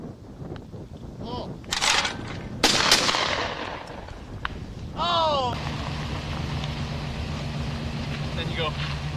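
Gunshots ring out during a Kansas Thanksgiving hunt, several sharp loud cracks in the first few seconds amid outdoor noise, followed by a steady engine-like drone, with people talking in between.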